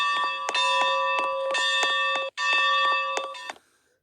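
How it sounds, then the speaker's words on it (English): A train's bell clangs repeatedly at a steady rhythm at a train museum, loud and ringing with a brief break before continuing, then fading out at the end. "Someone started up the bell on it."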